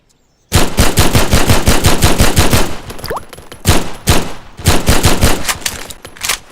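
Guns in a modded Steam video game fire loud automatic bursts, rapid close-range shots hammering almost without pause, with a few brief gaps between volleys and no speech over them.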